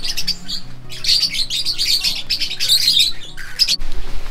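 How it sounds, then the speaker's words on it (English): Small black-cheeked lovebirds in a warm tropical house chirp and squawk continuously, with shrill, close, overlapping tweets and a low background hum. "So these are the black-cheeked lovebirds, and they're very small, and they are all in little pairs."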